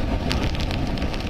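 Steady rain driven by strong cyclone winds in Mandvi, Gujarat during Cyclone Biparjoy, a dense continuous wash of noise with no voices.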